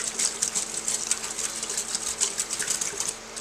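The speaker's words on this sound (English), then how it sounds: "give it a good whisk mix." A jerky marinade is whisked in a bowl with quick, rhythmic scraping strokes, close up and fairly bright, with no talking.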